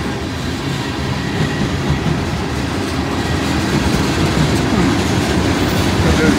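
A freight train with a caboose rolls past, a loud, continuous rumble of railcars with steady clickety-clack from the wheels on the track, heard close by without talk.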